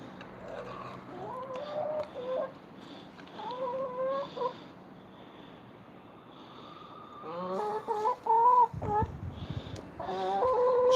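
Backyard chickens cluck in several short bursts at close range, with softer rustling and a quiet stretch between the calls.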